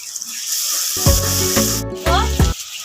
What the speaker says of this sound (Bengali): 3 থেকে 4 মিনিট মতো ভালো করে ভেজে নেব। দিয়ে দিব আদা রসুনের বাটা